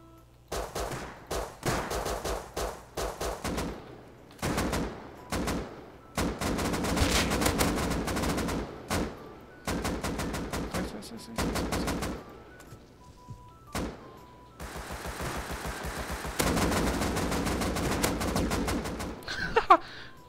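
Gunfire in a shootout in the survival game Rust comes in repeated loud bursts of shots with short gaps between them, some rapid like automatic fire and others spaced, with no talk in between.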